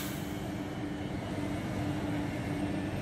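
A MiG-29 jet aircraft engine running on the ground, a steady droning whine with tonal hum, moderately distant and constant, with no voices over it.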